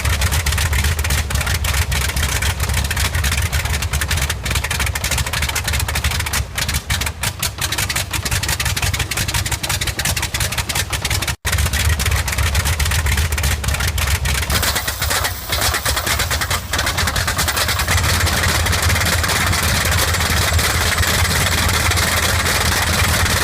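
A 14-cylinder air-cooled twin-row radial engine runs steadily, a loud continuous popping drone with deep intake noise that holds throughout, broken by one brief dropout midway.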